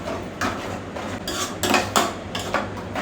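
Ingredients are stirred in a home kitchen pot, with repeated metal spoon scrapes and clinks against the vessel in an uneven rhythm, close and fairly clear over a low background hum.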